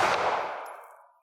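A single sharp 9mm Luger pistol shot from a 5-inch barrel, with a loud crack up front and then a ringing tail that fades to silence within about a second.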